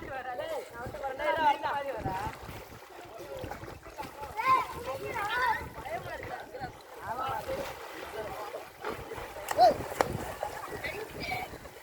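Boys jump and splash into canal water at Sengaraiyur near Tiruchi, with irregular splashes and water sounds under loud, excited shouting and talk throughout.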